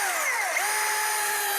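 Milwaukee 20-inch battery chainsaw running at its highest setting while cutting wood, a loud, high whining motor pitch that drops under load and then holds steady, close and continuous.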